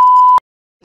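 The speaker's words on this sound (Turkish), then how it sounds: "Bip." A single loud electronic beep, a clean steady tone lasting under half a second, cuts off sharply, followed by near silence.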